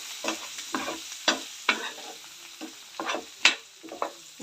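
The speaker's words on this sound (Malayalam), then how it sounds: "ഇനി നമുക്കിതിലോട്ട് നമ്മൾ വെള്ളത്തിൽ നന്നായിട്ട് വേവിച്ചെടുത്ത കോവയ്ക്ക് അങ്ങനെ ഇട്ട് കൊടുക്കാം" Boiled ivy gourd (kovakka) tumbles into a hot pan and fries, with repeated stirring scrapes and crackling sizzle bursts coming every half second or so, close and fairly quiet, with no talking.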